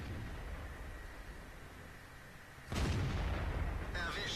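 A tank cannon in World of Tanks fires one loud, abrupt boom that follows a low rumble of battle ambience, its reverberating tail carrying on over a faint voice near the end.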